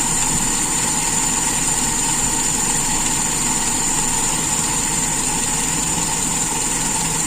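A carburetted engine idles steadily at lowered RPM while its idle mixture screw is adjusted, giving a continuous, even, close-up rumble with no breaks.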